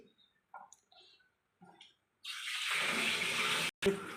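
Pointed gourds (potol) stuffed with chhana are dropped into a pan of hot oil, setting off a sudden loud, steady sizzling hiss after a few quiet clicks and taps, briefly interrupted near the end.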